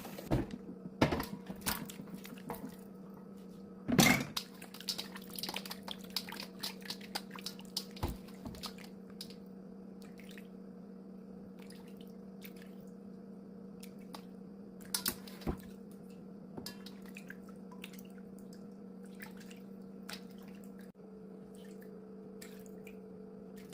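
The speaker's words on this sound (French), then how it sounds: "j'ai fini de nettoyer les rognons, d'enlever ce qu'il fallait enlever, tout ce sang qu'il y avait" Raw beef kidneys being rinsed and squeezed under water to wash out blood, giving soft wet squishes and drips over a steady low hum, with a few sharper handling knocks.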